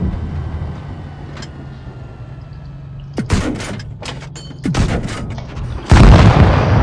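Tank guns fire in the video game World of Tanks Blitz, with several loud, sharp booms and rumbling impacts over a low engine drone, the heaviest blast landing near the end.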